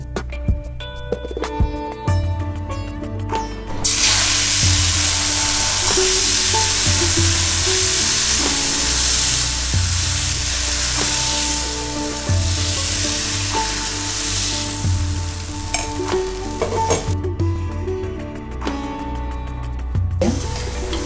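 Sponge dosa batter sizzles and fries steadily on a hot cast iron tawa, a loud, close, continuous crackling hiss lasting about twenty seconds, with faint clinks of utensils and no talk.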